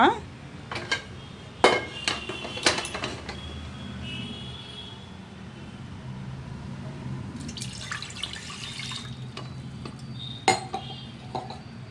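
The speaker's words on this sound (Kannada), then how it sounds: "ಹೆಸರು ಕಾಳು ಮತ್ತು ಬೇಳೆ ಎರಡೂ ತೊಳೆದು ಕುಕ್ಕರ್ಗೆ ಹಾಕತಾ ಇದ್ದೀನಿ" Mung beans and lentils being rinsed in a kitchen and tipped into a pressure cooker: scattered metallic clinks and clatters of vessels with light splashing water, several sharp knocks and a soft trickling stretch, close and fairly quiet.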